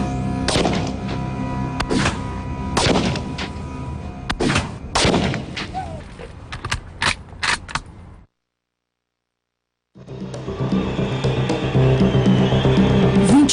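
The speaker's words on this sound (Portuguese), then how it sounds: "enquanto Michael testa a Mannlicher Carcano em alguns alvos fixos" A Mannlicher Carcano rifle fired at fixed targets, several sharp, loud reports spaced irregularly a second or two apart. A brief silence follows, then a steadier background noise resumes.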